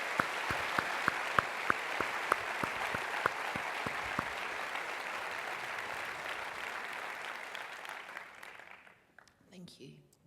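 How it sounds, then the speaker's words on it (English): Sustained audience applause after an EFT tapping session for knee pain, steady dense clapping with a few sharp claps early on, fading out near the end. "Round of applause for that."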